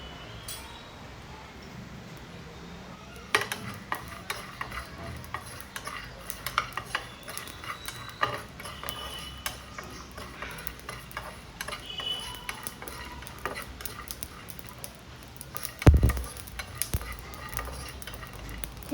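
Ajwain and cumin seeds roasting in a dry pan, a steady run of light ticks and crackles with sporadic scrapes and one louder clatter late on.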